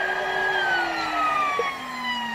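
Emergency vehicle sirens pass along George Washington Parkway, their wailing tones sliding steadily downward as the vehicles go by over constant traffic rumble, fairly loud and with no voices.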